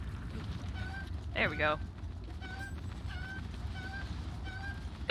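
A Cucco chicken in a Zelda game in Kakariko, giving a short series of small repeated clucking calls at an even pace, plus one louder squawk, under a steady background hum with a voice talking.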